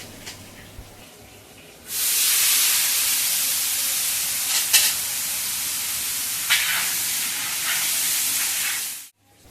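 Raw plantain slices hit hot oil in a wok, setting off a loud, steady, close hiss of frying that holds for several seconds and then cuts off abruptly.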